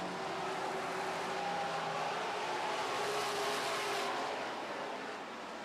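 Super stock race cars lap a track in a feature race, their engines forming a continuous loud, blended roar with a gentle swell as the pack passes.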